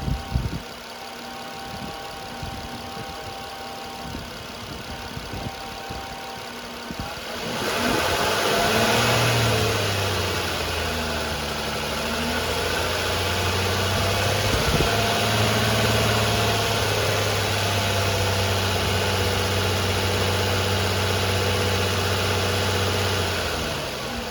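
A car engine idles steadily, then is revved up to about 2000 RPM and held there with a rising then steady hum and faint whine, close and clear, with no talking.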